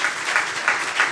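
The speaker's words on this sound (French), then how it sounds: "On peut les applaudir très fort" A short burst of steady, dense applause rolls through a conference audience at a contract management event, even and fairly loud throughout.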